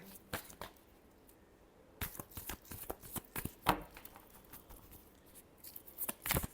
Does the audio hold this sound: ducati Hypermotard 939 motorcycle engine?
no